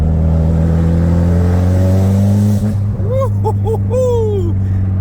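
A car with a gutted exhaust drones steadily at close range as it drives. The engine pitch climbs and then drops, and a man whoops in a sliding voice over the rumble near the end.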